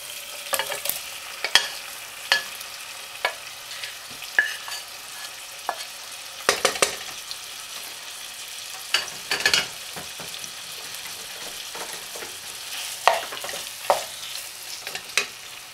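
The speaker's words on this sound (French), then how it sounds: "Donc maintenant je rajoute mon foie" Liver frying in a Moroccan kbida mcharamla sauce, a steady sizzle broken by sharp stirring clatters and scrapes of a utensil in the pan, close and continuous with no talk.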